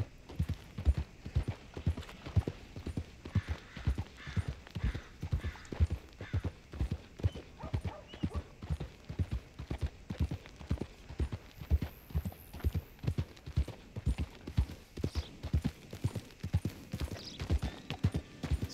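Steady, rhythmic clip-clop of a horse's hooves at a trotting pace in the video game Red Dead Redemption 2, close and continuous, with faint background ambience.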